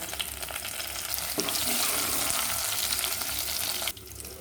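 Dense crackling sizzle of curry leaves and cashews frying in oil with a low hum underneath, stirred briefly, then dropping suddenly quieter near the end.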